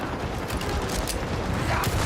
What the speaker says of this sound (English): So many bolt rounds.